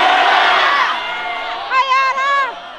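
A large crowd at a street rally loudly shouting a slogan back in unison, a dense burst of voices that swells into a chanted response, near and powerful.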